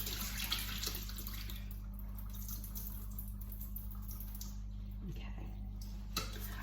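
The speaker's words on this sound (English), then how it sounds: "I'm just going to drain that last bit of cold water off" Cold rinse water drains off rice in a pan into a sink as a faint, steady trickle with a few soft splashes.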